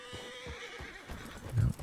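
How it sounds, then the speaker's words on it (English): Horses in Red Dead Redemption 2 roleplay: soft hoof clops repeat at a slow, uneven pace, then a louder neigh rises near the end, all at a moderate distance with no talk. "A lot of horses, though."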